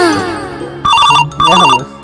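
A mobile phone plays a melodic ringtone in two loud bursts, and a voice is heard just before it begins.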